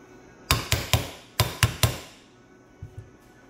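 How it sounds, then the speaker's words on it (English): A hammer taps metal parts of an RCV axle shaft in a short burst of sharp strikes, a quick pair followed by a quicker triple, then two faint taps, close and clear. "as you can see, I'm really just tapping"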